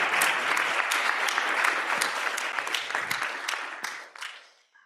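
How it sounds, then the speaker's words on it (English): A round of applause from a conference audience welcoming panelists at a Latin America conference, a steady dense clatter of clapping that fades out over the last second. "Please, let's give a round of applause just to give a welcoming to."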